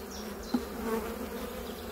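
Honey bees buzz steadily at a hive, a dense, low droning hum that stays close and even throughout, with a faint tap partway through.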